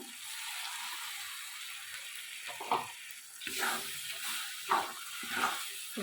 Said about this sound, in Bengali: আমি যে এখানে পালং শাকটা বেটে রেখেছিলাম আমি এবারে ঢেলে দেবো